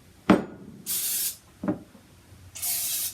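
Pam cooking spray is sprayed into a baking pan in two sharp bursts, each preceded by a click of the nozzle, close and loud, with quiet in between.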